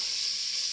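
Spinach and bacon lardons sizzle in a high-sided saucepan while being stirred constantly, a dense, even frying hiss held close and steady with no breaks.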